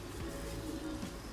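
Breeding pigeon softly cooing, low faint murmuring coos repeating under a steady background hum.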